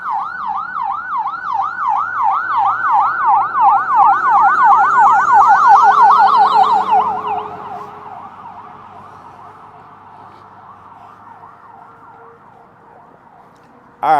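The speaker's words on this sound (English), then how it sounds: "Can you guys hear that ambulance?" An ambulance siren wails in a fast, regular up-and-down sweep, loud and close at first, then fading and dropping in pitch as it moves away, with a sharp sound at the very end.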